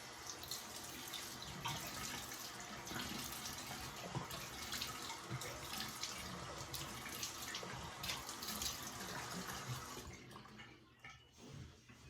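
Tap water runs steadily from a faucet into a sink for rinsing after a head shave, a dense, continuous splashing close by that stops abruptly near the end, leaving only faint drips and room sound.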